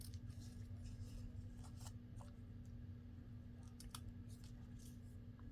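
Scissors cut through a 6x6 sheet of craft paper in a few faint, separate snips over a steady low hum in a quiet room.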